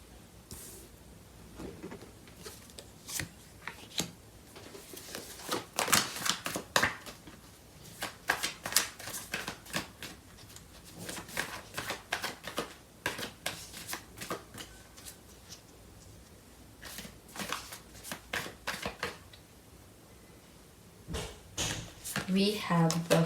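Tarot cards are shuffled by hand in bursts of quick riffling and flicking, with quiet pauses between the bursts, close and moderately soft.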